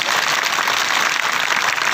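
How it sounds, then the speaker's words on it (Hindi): Dense, steady applause from a large crowd at a political rally, loud and sustained with no break. "सही है तो ताली बजाओ।"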